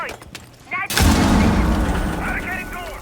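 A C4 charge detonates in a competitive tactical shooter match, a sudden loud boom near one second that rolls into a long, dense rumble, with faint game effects before it and no talking.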